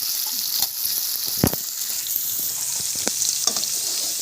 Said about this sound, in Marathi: आता चांगलं फिरून घ्या आता ह्यावेळेस मटार पण घालून घ्या फिरून घ्या